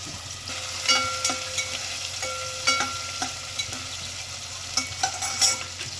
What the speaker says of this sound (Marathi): कांद्याला जरा गुलाबी कलर येईपर्यंत थोडं परतून घेऊया